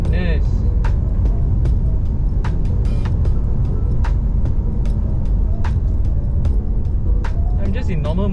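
A Porsche 911 GT3 engine pulls hard under acceleration from inside the car, a loud, sustained mechanical roar with shifting pitch, punctuated by sharp clicks and knocks, while someone talks over it.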